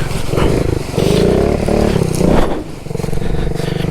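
A Honda Z50R mini motorcycle carrying a heavy rider down the side of a mountain, its small engine droning steadily with slight pitch changes and clattering close by throughout.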